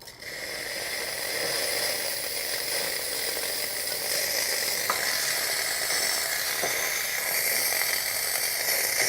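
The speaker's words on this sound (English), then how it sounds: "I'm going to dump this because this thing really puts out some steam" A loud, steady hiss of steam blasting from an espresso machine's steam wand, continuous and close, with faint metallic clicks partway through.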